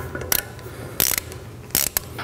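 Ratchet wrench cranking a bolt tight during assembly of a Laguna CFlux 3 dust collector, heard as three short bursts of rapid metallic clicks separated by brief pauses, close and alone without speech.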